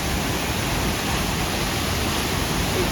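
Silver Falls in Rainier National Park roars as a strong, steady waterfall, a dense, loud, unbroken rush of water heard close up with no voices.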